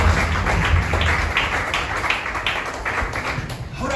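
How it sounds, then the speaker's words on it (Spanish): Church congregation applauding in a steady burst of clapping, a dense crowd of hands sustained for about four seconds at a moderate level. "Den ese fuerte aplauso al Señor a esta hora"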